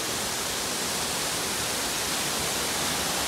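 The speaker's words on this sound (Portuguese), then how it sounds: "Olha esse barulho dessa cascatinha, dessa cachoeira." A small waterfall in a canyon rushes as a steady, dense hiss of falling water, even in loudness throughout with no voices.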